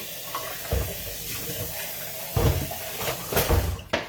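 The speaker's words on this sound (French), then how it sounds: "vais juste mettre de l'eau dans mon blender" Water runs into a blender at a kitchen counter, a steady faint hiss and splash broken by a few louder clunks and knocks.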